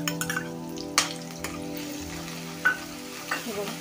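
Onion fries in a pan with a soft, steady sizzle, broken by a few clinks and scrapes of stirring, fairly faint and heard on its own.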